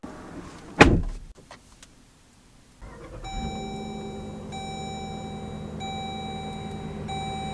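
A 2022 Dodge Durango R/T door opens with a sharp latch click and thump, then after a quiet pause a steady electronic warning chime rings on with a low hum beneath it, close by.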